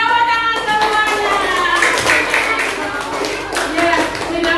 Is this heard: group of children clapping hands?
yes